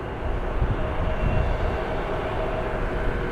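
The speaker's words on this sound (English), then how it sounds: "Embraer heading over to the hangar here the other side" Embraer jet taxiing toward a hangar at Columbus airport, a Republic Airways base, its steady low engine rumble and broadband roar continuous and fairly loud throughout, with no voices.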